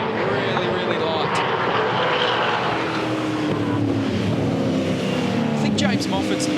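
V8 Supercar race cars at Bathurst roar steadily in wet conditions, their engine drone continuous and loud with a commentator talking over the top throughout.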